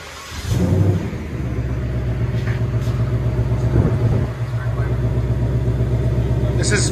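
Stock 2020 Ford Mustang GT with 5.0L Coyote V8 and factory exhaust idles with a steady, throaty low rumble after a brief rev near the start, staying close and loud throughout.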